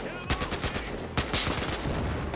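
Rapid bursts of gunfire in the video game Battlefield Hardline beta, several sharp shots cracking in quick succession over a dense, noisy game soundscape.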